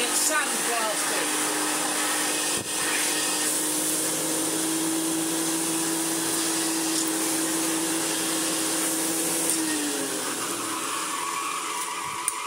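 A restored Hoover Senior 652a vacuum cleaner runs with its hose attached, producing a steady loud whining drone with a brief dip near the start and a change in pitch toward the end.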